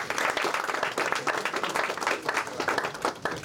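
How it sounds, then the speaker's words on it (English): A room of guests at an Eid reception at Labour Party headquarters in London gives a round of applause for Andy MacDonald, with dense, lively clapping that rises and falls steadily throughout. "Can I have a round of applause for Andy"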